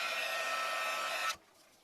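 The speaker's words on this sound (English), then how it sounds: "also using the help of a heat gun." A heat gun warming leather waterproofer on leather blows a steady, fairly faint airy whoosh that cuts off abruptly, leaving near silence.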